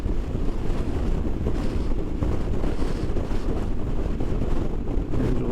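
Strong wind roars steadily and loudly across the microphone while riding motorcycles, including a Honda, a constant rumbling buffet with no pauses.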